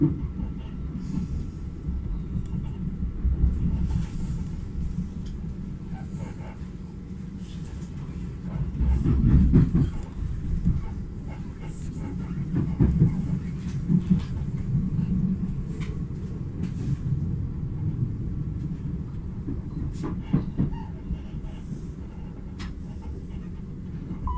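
A Southeastern passenger train runs on rails in Kent between Barming and Ashford International, heard from inside as a steady low rumble with rattles and clicks. It swells briefly around the middle and continues without voices.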